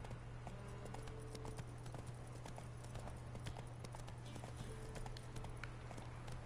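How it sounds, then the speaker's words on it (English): A horse gallops in The Witcher 3 video game, its rapid hoof clip-clops running in a steady rhythm over a constant low hum, moderately loud and without talk. "I will just make my horse run"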